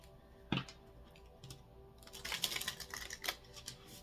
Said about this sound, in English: I'm going to do a hard shuffle now.